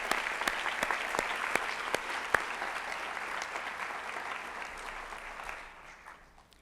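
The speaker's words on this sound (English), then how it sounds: "let's give a big round of applause to the Shawnee Mission Education Foundation" An awards ceremony audience applauds a local education foundation at a research and development forum. The clapping is sustained and moderately loud, has a few sharp individual claps on top, and fades out toward the end.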